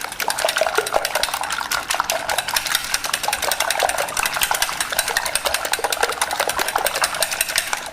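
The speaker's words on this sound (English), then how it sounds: "What you want to do is beat the eggs until they're light and frothy." Eggs beaten by hand for lemon bars, a fast, steady rhythmic clatter of a whisk or fork against a bowl, loud and close, continuing without pause and without talking.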